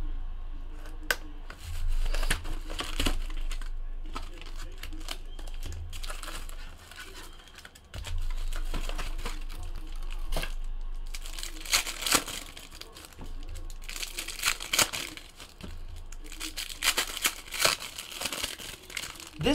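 Cardboard and foil packaging of an Upper Deck ICE hockey card box being torn and crinkled open, with steady close rustling, ripping and crumpling bursts throughout.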